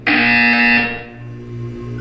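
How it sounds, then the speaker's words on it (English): A harsh electronic buzzer sounds in a Portal 2 test chamber in the video game, one loud sustained blast lasting under a second, then cutting to a low residual hum. "You will hear a buzzer."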